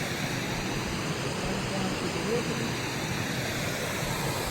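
A small roadside waterfall on a little creek at Jack River Falls in North Georgia pours in a steady, even rushing hiss, close and constant throughout.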